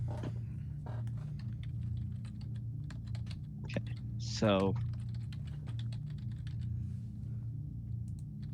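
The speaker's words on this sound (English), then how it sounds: "he's typing something" Steady computer keyboard typing runs throughout, quick light clicks close by, with a brief spoken word and a short tonal sweep partway through.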